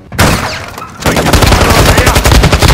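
Shotgun and other gunfire in Call of Duty DMZ, a loud opening blast and then a rapid, sustained burst of close shots.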